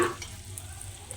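Anarse frying in hot oil in a heavy-bottomed kadhai, a soft steady sizzle with a brief louder bubbling at the start, then an even, low crackle throughout.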